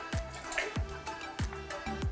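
Liquid citric and lactic acid drips into a brewing mash, four distinct close drops landing at a roughly even spacing, each a short bright plink over a quiet background.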